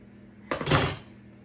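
A metal spoon scrapes and clinks against a pot of thick hamburger stew in a brief burst of stirring, close and clear against a quiet kitchen.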